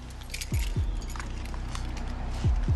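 Car keys jingle and clink as a driver hands them over during a traffic stop, a few bright metallic jangles close by with soft thumps, no talking.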